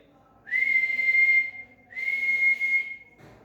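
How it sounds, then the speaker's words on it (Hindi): A bus conductor blows a shrill whistle twice in quick succession, two sustained high blasts each lasting about a second, loud and close with no talk over them. "उसने 2 बार सीटी बजाई"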